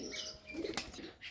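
Bombay pigeons bathe in water on a cold day, giving a quick flurry of wing flaps and splashy patter close by, brief and fairly quiet with no talk.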